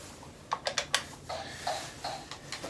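Clicky video game controller buttons pressed in a quick run of sharp, close taps, followed by several softer, spaced clicks.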